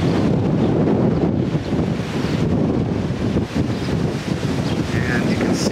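Strong wind blows dust across a campsite in Roswell, New Mexico, roaring and buffeting the microphone in a continuous loud rush throughout.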